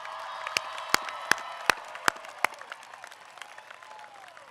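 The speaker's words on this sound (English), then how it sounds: "Give yourselves a big round of applause." An audience at a college commencement ceremony applauds, with a handful of loud, close individual claps standing out over a wash of crowd clapping and cheering that gradually fades.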